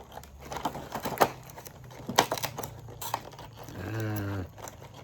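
Tape peeled off a cardboard toy box in sharp crackling bursts and scattered rustles, ending in a longer tearing rip, all close and fairly quiet.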